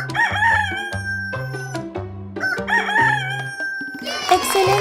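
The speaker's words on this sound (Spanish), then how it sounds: "Es el gallo" A rooster crows loudly and close, its drawn-out call repeated twice over a bouncy musical backing.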